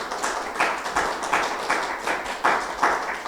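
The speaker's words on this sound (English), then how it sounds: "Earl Hackett a round of applause?" A small audience claps for Mr. Earl Hackett, a sparse, uneven patter of hands with a few louder bursts that repeat roughly every half second, fairly close and with no voices over it.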